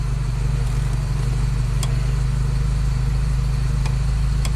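A 1978 Ferrari 308 GTB engine runs at a steady idle, a loud, continuous low rumble with a constant throb and no talking.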